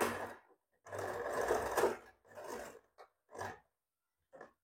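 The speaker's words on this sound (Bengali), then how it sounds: "আবারও আগের মতো করে এখান থেকে আমরা সেলাই করব" A sewing machine stitches a size 32 princess cut blouse in several short runs: one long burst, then shorter bursts separated by silent pauses, close and clear.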